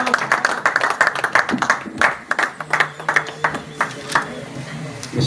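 A crowd at a poetry gathering claps in a lively burst of uneven, fairly close hand claps for several seconds, welcoming a speaker, with a few voices mixed in.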